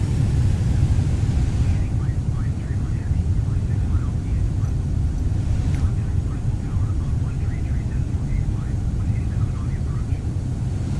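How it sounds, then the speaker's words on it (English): A320 airliner on its landing roll in a flight simulator with reverse thrust engaged: a steady, loud low engine roar and airflow hiss held throughout, with someone talking over it. "we'll put it into reverse thrusts to slow us down"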